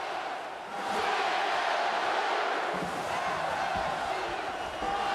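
Basketball crowd in St. Louis roaring for Illinois during a college game against Missouri, a sustained loud wash of cheering that swells and dips, with a commentator talking over it.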